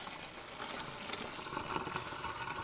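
Pasta water poured off through a strainer while cooking lemon shrimp, a steady close rushing and splashing of liquid that runs continuously without pause.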